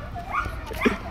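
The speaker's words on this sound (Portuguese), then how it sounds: "um monte de cachorrinho brincando, passeando" Several small dogs playing in a fenced dog park, with light yips and whimpering barks mixed into a busy outdoor background and some nearby chatter.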